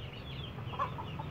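Hens cluck in short, scattered calls while a black hen grabs food meant for a rooster at feeding time, with a couple of brief clucks standing out over steady low background noise.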